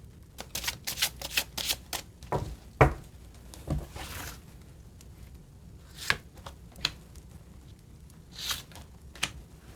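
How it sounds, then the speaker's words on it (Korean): Tarot cards are shuffled and drawn close by in quick bursts of riffling, flicking and soft slaps, separated by brief pauses, with no talking. "카드 몇 장 뽑아봅니다"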